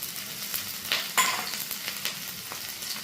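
Finely chopped garlic, ginger and green chili fry in a hot pan, a close, even sizzle with a few soft spatula scrapes and pops, no talking.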